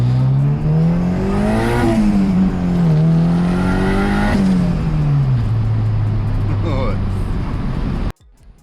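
A turbocharged Honda Integra DC2 with a B18C engine pulls hard under acceleration, its loud engine note climbing through the revs, falling back as a gear changes, then rising again before cutting off abruptly.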